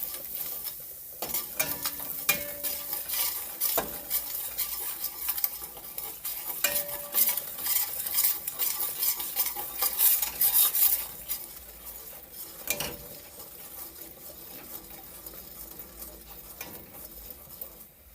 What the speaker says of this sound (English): Now I'm gonna add some curry. Stirring it up, make it burn.